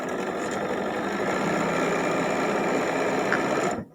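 A sewing machine runs steadily while stitching quilt block pieces for a mosaic sampler block, a continuous close mechanical whir that holds for nearly four seconds before cutting off.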